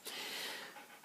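A female dog pants rapidly and steadily at close range, a continuous breathy rasp that dips briefly before picking up again, with no talking.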